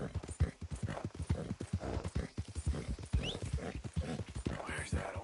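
Horse hooves clip-clop in a PS4 video game, a quick, irregular run of hoof knocks at moderate loudness, with a faint whinny-like sound mixed in.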